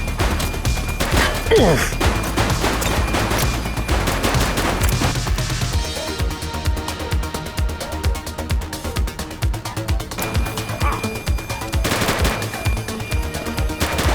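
Video game gunfire in The Precinct bursts out as rapid automatic volleys and sharp single shots, loud and close, with crashing impacts between bursts over about fourteen seconds.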